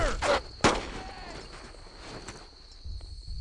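Gunfire in the WWII shooter Brothers in Arms: Earned in Blood, a couple of sharp close shots early on, then a quieter stretch of distant battle noise and a shouted voice.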